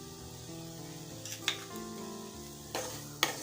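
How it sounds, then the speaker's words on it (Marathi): Powdered sugar being stirred into a coconut chikki mixture in a pan, a soft continuous scraping and faint sizzle with a few sharp spoon knocks against the pan, quiet and close. "आणि ही साखर व्यवस्थित यामध्ये मिक्स करून घेऊया"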